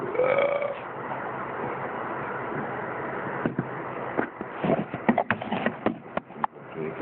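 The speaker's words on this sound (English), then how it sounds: "See if I can burp really good." A person burping repeatedly in a burping contest, a long drawn-out belch first followed by a run of shorter, choppy burps and gulps, close and fairly loud with no talking.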